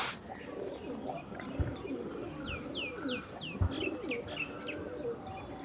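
Madras pigeons coo softly in a loft while other birds give a run of quick descending chirps, with a couple of dull thumps between the calls.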